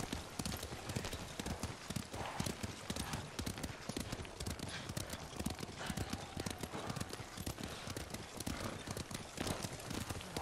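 Horses gallop in the video game Ghost of Tsushima, a dense continuous clatter of hoofbeats running steadily throughout, with wind and movement noise blended in and no talk.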